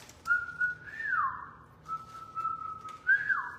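A person whistles a clear melodic line alone, sliding up and down in pitch with a brief pause partway through, close and fairly loud.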